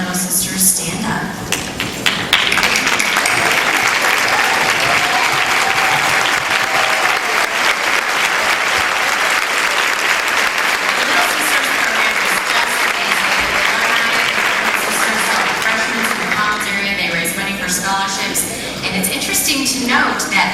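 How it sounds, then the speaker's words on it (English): Audience applause at the Miss Nebraska pageant 2008: a large crowd claps loudly and continuously for about twenty seconds, swelling in after a brief lead-in and fading slightly near the end. "we want to give you a special hello and round of applause"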